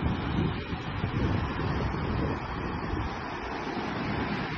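Sea waves wash near the shore at Atafona, a steady broadband rush of surf mixed with wind buffeting the microphone, continuous and fairly close with no voices.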